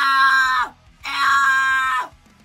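A person attempts a whistle scream, the extreme high-pitched vocal technique used in metal, producing two sustained shrill screams of about half a second to a second each, separated by a brief pause and ending in falling pitch.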